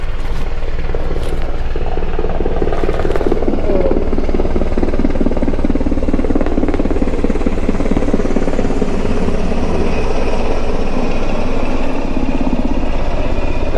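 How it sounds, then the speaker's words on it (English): A loud military helicopter thunders overhead, its rotor chopping steadily and droning for the whole stretch. "military helicopter"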